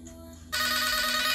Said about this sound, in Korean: 누구야 이거? 전화 어떻게 받는데?